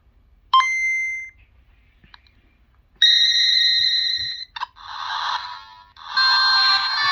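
Bright electronic chimes and buzzy synthesized tones of the game Metroid from a Nintendo Game Boy Advance's small tinny speaker, starting with a sharp ding, then sustained bleeps and noisy bursts, loud and close.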